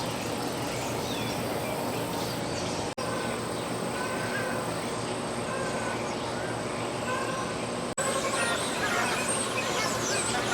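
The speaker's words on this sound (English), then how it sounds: "You can hear some of the other birds making all their different noises" Varied chirps and calls from many birds fill a zoo aviary at Omaha's Henry Doorly Zoo, layered over a steady wash of background noise and crowd murmur, with short breaks in the sound.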